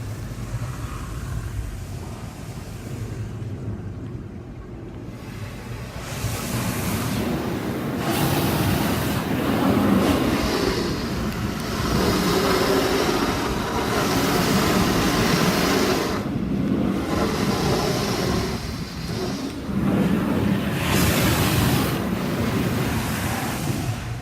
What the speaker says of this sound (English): We're going for high pound rinse.